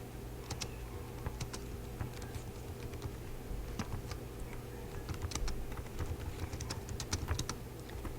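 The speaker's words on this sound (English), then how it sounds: "And then you just type in the content box." Fingers typing on a computer keyboard in a classroom response system, a quiet, uneven patter of key taps in short bursts, close but soft over a low background hum, with no talking.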